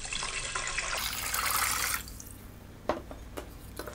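Water pours steadily from a tap into a pot holding salt and sugar, a loud hissing stream for two seconds, then stops, leaving a few faint drips and clinks.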